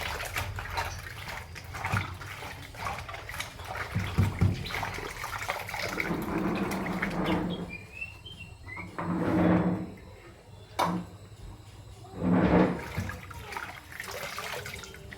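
Water splashes and pours in bursts, with sloshing and running water rising and falling as vegetables are rinsed, fairly quiet and close.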